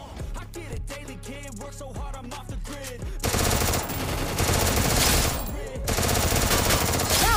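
Rapid automatic gunfire in the Free Fire battle royale game, first as separate quick shots, then dense sustained bursts of machine-gun fire that stay loud and close, with a brief gap near the end.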